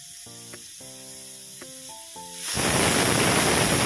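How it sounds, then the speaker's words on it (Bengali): A pressure cooker holding jackfruit seed dal with split green chillies releases steam as a loud, steady hiss that breaks in abruptly after a few seconds of a tonal, sung-like whistle. "কুকারের ঢাকনাটা লাগিয়ে 3 থেকে 4টে সিটি দিয়ে নেব"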